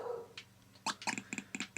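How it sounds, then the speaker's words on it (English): A dog barks nearby in a quick run of sharp, closely spaced barks, preceded by a brief whine, while a retro Pac-Land arcade game plays faintly in the room. "And as usual, the dog starts barking."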